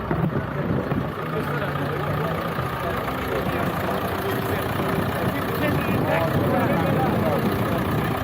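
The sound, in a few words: Massey Ferguson 35X tractor engine running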